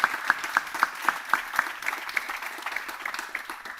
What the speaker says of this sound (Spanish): solo quiero pedir un fuerte aplauso para Marilena de Chiara